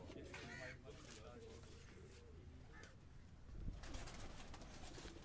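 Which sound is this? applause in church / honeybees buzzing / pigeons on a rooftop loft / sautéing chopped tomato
pigeons on a rooftop loft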